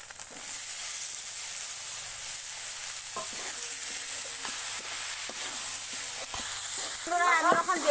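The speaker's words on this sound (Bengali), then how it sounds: "আমি এখন টমেটো আর তেজপাতা দিয়ে দিচ্ছি।" Chopped tomatoes and bay leaves hit hot oil with spices while a dried-fish curry cooks, giving a steady close sizzle broken by the scrape and knock of a stirring spoon, with busier clattering near the end.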